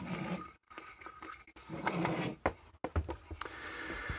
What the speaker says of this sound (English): I'll unscrew it from the pink lamp holder.